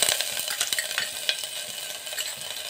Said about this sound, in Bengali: আদাগুলো আমি একটু নেড়ে নেব।